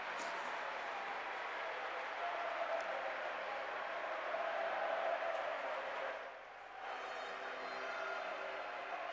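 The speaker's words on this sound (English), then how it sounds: "And a loud cheer goes up from that far side." Football fans roar from the far side of the stadium after the trophy is raised at the 2023 FA Women's National League play-off final between Nottingham Forest and Watford. The crowd noise is broad and sustained, with scattered clapping, briefly dipping before rising again.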